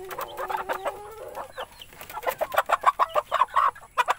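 Several chickens cluck close by in quick, overlapping bursts that grow busier and louder toward the end.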